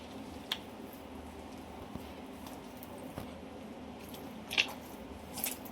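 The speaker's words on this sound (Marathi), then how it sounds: "बघू शकता हातानंच घेतलं बघा सगळं मिसळून मी" Refined flour and water are squished together by hand into a thick batter for quick breakfast bhaji. The soft, wet squelching is faint and steady, with a few light slaps and no voices.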